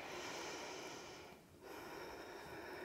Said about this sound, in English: Take a deep inhale and exhale here